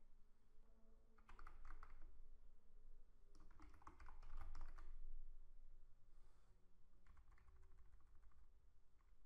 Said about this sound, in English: You can then type in the field here.